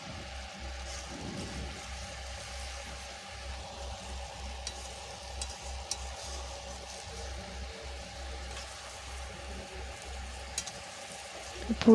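Chicken curry with potatoes, fried in salt and turmeric and then added, sizzles softly in a pan in a home kitchen. A low, steady, faint frying hiss runs throughout with no talking.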